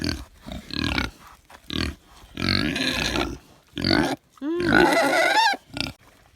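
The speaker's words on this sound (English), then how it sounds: "Oreo has found his way in to this pig pen himself." Pigs in a pig pen grunt and squeal at close range in repeated bursts, with a couple of longer, louder squealing stretches between short quiet gaps.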